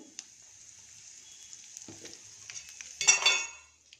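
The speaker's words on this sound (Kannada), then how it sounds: "ಇವಾಗ ಸಾಸಿವೆ ಕಡಲೆಬೇಳೆ ಉದ್ದಿನಬೇಳೆ ಮೆಂತ್ಯ ಹಾಕ್ತಾಯಿದ್ದೀನಿ ಇದು ಸ್ವಲ್ಪ ಚಟಪಟ ಅಂತ ಸಿಡಿದ್ವಿ" Mustard seeds, chana dal, urad dal and fenugreek hitting hot oil for a tempering in a spinach rice dish, a faint steady sizzle that swells into a louder burst of crackling spatter near the end.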